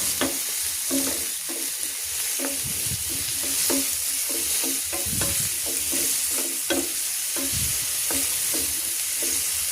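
A spatula stirs adobong kangkong, water spinach, in a hot pan with a rhythmic series of scrapes and clanks over a constant loud sizzle. No voices come through.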